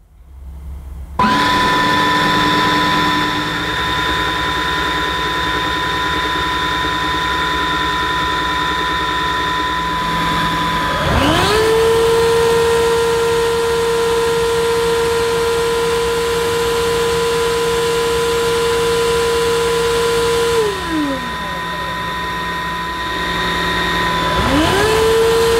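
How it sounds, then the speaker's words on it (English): A Tineco iFloor Breeze cordless hard floor washer runs its self-cleaning cycle with a steady whining motor hum, shifting pitch twice as the cycle changes phases, loud and close throughout. "press the power button and hold it for around 3 seconds, and then the machine will run through its cleaning cycle"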